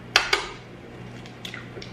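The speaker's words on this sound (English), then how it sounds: "We're gonna go ahead and crack the eggs" Eggs are cracked against the rim of a blender jar for a cheesecake batter, two sharp close knocks in quick succession followed by lighter clinks and faint dripping sounds.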